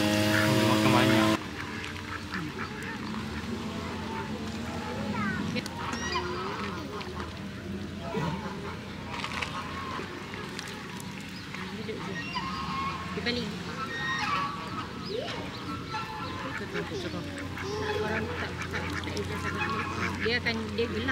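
Geese honk intermittently over a noisy outdoor background at a community park in Bukit Jelutong, Malaysia, with people talking nearby throughout.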